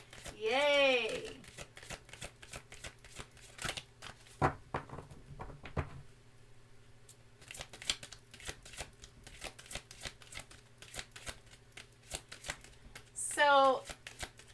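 Tarot cards being shuffled by hand, with quick riffling and patting bursts in a short cluster near the start and again near the end, close and moderately loud, while a voice talks through much of it.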